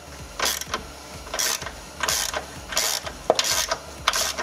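A ratchet loosens the negative battery terminal nut on a Dodge Journey, giving loud, close bursts of rapid clicking that repeat at a steady rhythm, about six strokes in quick succession.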